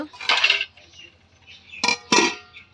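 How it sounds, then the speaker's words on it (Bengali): A lid is set on a pot of semolina dough for pulli pitha, with a couple of quick, bright metallic clanks close by after a brief muffled shuffle. "এবার আমি একটু ঢাকনা দিয়ে রেখে দিব কিছুক্ষণের জন্য"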